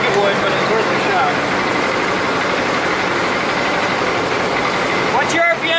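A fire truck engine runs steadily at high idle, a dense continuous rumble with no letup, close and loud throughout, with faint voices briefly near the end.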